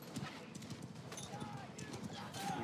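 Video game horse hooves clip-clopping in a quick, steady rhythm, fairly faint and mixed under in-game ambience and battle noise.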